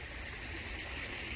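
A forest stream rushes in a steady, continuous wash of flowing water, close and moderately loud, with no other sounds.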